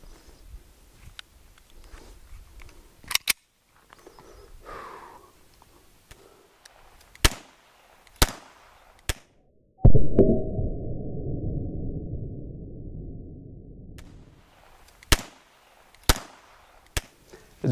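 Gunshots striking a small steel gong target hung on a semi-rigid mud flap at a shooting range, a series of sharp separate cracks spaced unevenly, with one longer ringing, rumbling burst in the middle, no talking.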